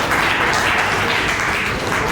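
Loud, dense applause from an audience at a school event honouring a guest, continuous clapping throughout with no pauses.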